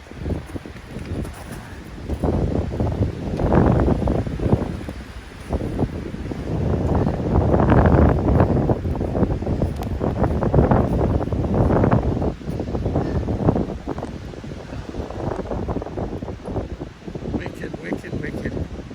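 Strong blizzard wind gusting and buffeting the microphone in roaring, uneven surges that rise and fall throughout, loud and close.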